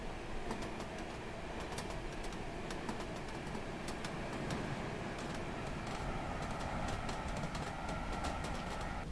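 A TGV Réseau high-speed train on the LGV Rhône-Alpes in Train Simulator 2020 rumbles steadily while sharp rail-joint clicks tick through it at irregular intervals, sometimes in quick pairs, under a continuous rolling hum.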